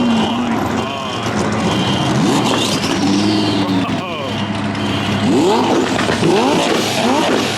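A twin-turbo Lamborghini revs hard, its engine pitch sweeping up and down in repeated bursts amid loud exhaust roar, close by, with voices talking over it.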